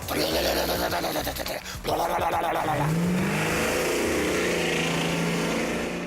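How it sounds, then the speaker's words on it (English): A big Hemi V8 engine roars and revs loudly up close, the pitch climbing then settling into a steady, throaty rumble. "there is nothing like the sound of a Hemi. 8 huge cylinders full of Mopar power."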